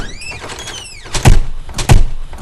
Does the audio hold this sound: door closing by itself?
yes